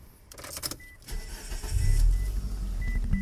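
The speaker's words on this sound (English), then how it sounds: "let's go ahead and turn the car on here" A 2008 Mitsubishi Eclipse GS starting up from inside the car: a few chimes and clicks, then the starter cranks and the engine catches, settling into a loud, steady idle close by.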